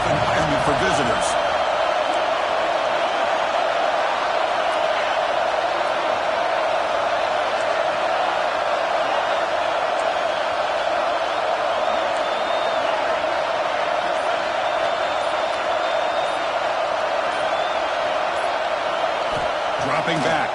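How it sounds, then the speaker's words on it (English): Steady crowd roar fills a football stadium early in the game, a dense wall of noise that is hard on visiting teams, with a commentator's voice running over it throughout. "Listen to the crowd energy here in the early going."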